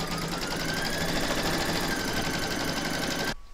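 An embroidery machine stitching batting held in the hoop for an in-the-hoop stacked pumpkin, a close, loud, steady rapid needle whir with a rising motor whine that stops abruptly at the end.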